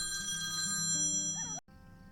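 A telephone ringing with a steady electronic warble that fills most of the moment, then cuts off abruptly as the handset is picked up, leaving quiet room tone.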